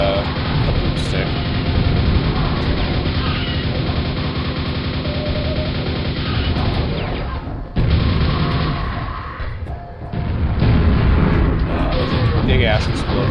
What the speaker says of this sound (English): Big ass explosion.